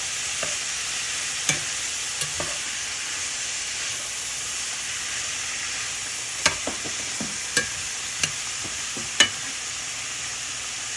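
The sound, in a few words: celery and vegetables sautéing and being stirred in a pan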